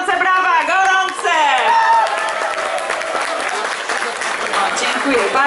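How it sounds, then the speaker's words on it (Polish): Warm applause from an audience at a broth festival for a primary school's cooks, steady clapping beneath an energetic voice and crowd noise. "Prosimy o gorące brawa, gorące!"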